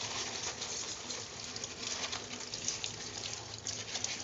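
Breadfruit leaves are rinsed under running water, giving a soft, steady patter and hiss that holds evenly throughout, fairly quiet and with no voices.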